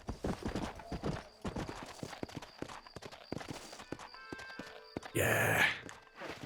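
Hooves clip-clop at a steady walking pace in the Red Dead Redemption video game, fairly close and faint, with a brief loud horse whinny or snort near the end.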